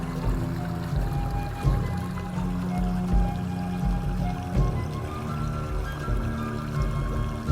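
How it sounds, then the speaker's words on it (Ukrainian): Water pours and trickles continuously, a steady moderate flow with gentle splashing and no pauses or voices, used as a calm meditation background. "розчиняється через звук води."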